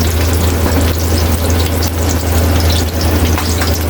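Onions frying loudly in a pan for beef afritada, a dense, steady sizzle that stays constant throughout with no pauses or voices.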